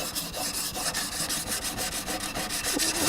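Okatsune pruning shears are drawn repeatedly along a 600 grit whetstone, a steady rhythmic gritty rubbing of metal on stone, close and continuous with no talking.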